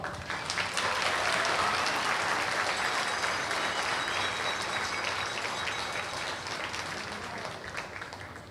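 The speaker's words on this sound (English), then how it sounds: "Give him a round of applause." Stadium crowd at a Wilson Tobs versus Martinsville Mustangs baseball game applauding after a military oath, a loud sustained wash of clapping and cheering that holds steady for several seconds and then slowly eases off.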